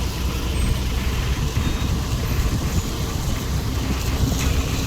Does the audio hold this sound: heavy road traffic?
yes